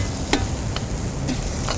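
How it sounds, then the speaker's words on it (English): Onions sizzle in butter and olive oil on an induction burner, giving a steady, close frying hiss broken by a few sharp clicks of stirring. "A little bit of sizzle there. Sizzle. And it's going to start to sizzle."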